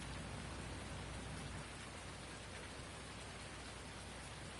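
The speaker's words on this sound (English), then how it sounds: "Listen to the rain in these headphones." Steady rain falling on a soggy Sunday, a dense, even hiss of drops that holds constant throughout without voices.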